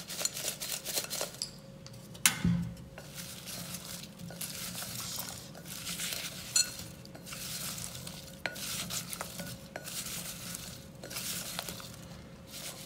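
Spice-coated crispy baby potatoes are stirred in a pan with red chili powder, giving repeated soft scraping strokes in a steady rhythm over a faint background sizzle, close and quiet.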